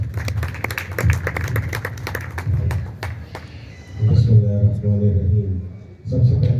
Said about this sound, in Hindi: मैं इज़हार ख्याल के लिए दावत दूंगा आपकी भरपूर तालियों में फैसल अली साहब को